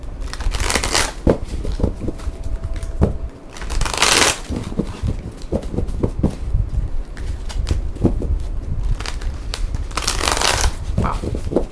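Tarot or oracle cards shuffled repeatedly during a pick-a-card reading, with bursts of crisp riffling and slapping at close range, several busy flurries spread across the stretch and no talking.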